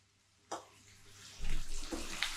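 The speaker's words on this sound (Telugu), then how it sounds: "ఈ ఉల్లిపాయలు బాగా వేగాలి కదా, అందుకని నేను ఇంకొక స్పూన్ కూడా యాడ్ చేస్తున్నా" Onions frying in oil in a pan for a chicken fry: a close, steady sizzle starts abruptly, then swells louder and hisses on with small crackling spikes.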